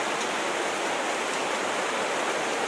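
Steady heavy rain pours down in a village, a dense, even hiss of falling water with no breaks and no voices.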